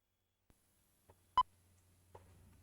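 A tape player gives one short, clear electronic beep in a quiet room, with faint clicks and a low hum before and after.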